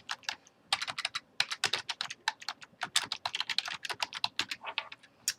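Close, crisp typing on a computer keyboard as a document name is entered, a rapid irregular run of clicking keystrokes with brief pauses, no voices.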